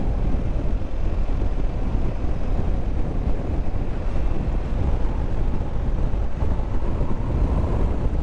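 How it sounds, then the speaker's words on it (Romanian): Strong wind blasts across an open outdoor spot on a warm 25-degree day on the way to Thasos, a loud, continuous roaring rush that buffets the microphone for the whole stretch, with no voices. "Bate vântul destul de tare."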